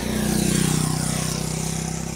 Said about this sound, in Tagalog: Ayun, may motor.